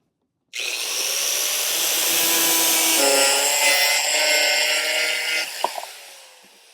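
A regular steel cutoff wheel trimming a plastic Rugged Ridge fender flare, a sudden start into a sustained, close, high whining grind that holds steady for several seconds, with a few sharp clicks near the end.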